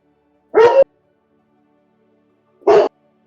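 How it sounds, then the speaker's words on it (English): A dog lets out two short, loud barks close by, spaced about two seconds apart with silence between them and no talking. "Cather starts barking at Chelsea"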